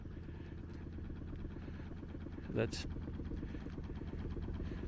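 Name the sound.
fishing boat engine idling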